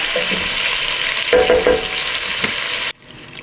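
Meat frying in a pot for a creamy Zuppa Toscana-style soup sizzles loudly and steadily at close range, with scattered pops and stirring sounds, before cutting off abruptly into near quiet.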